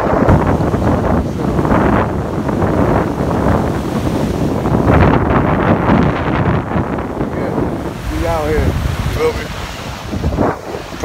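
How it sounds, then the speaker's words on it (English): Wind buffets the microphone on Myrtle Beach, South Carolina, with steady crashing surf roaring underneath and swelling in waves; a voice briefly cuts in near the end. "I'm out here, Myrtle Beach, South Carolina."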